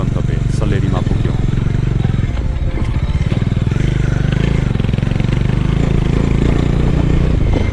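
A motorcycle engine runs on a mountain road trip in Nepal, a loud, close, rapid pulsing thrum with some rattling clatter, continuous throughout while a voice talks over it.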